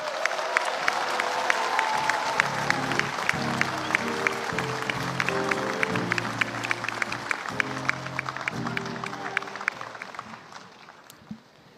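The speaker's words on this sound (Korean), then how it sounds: "여러분 큰 박수로 환영해 주시기 바랍니다." A crowd at a New Politics Alliance for Democracy party founding convention applauds steadily with scattered cheers over band music, the clapping thinning and fading toward the end.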